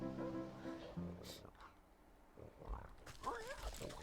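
A cartoonish pig oinks in the Wytchwood video game at a hog farm, with a few snorting grunts against game music and a talking voice.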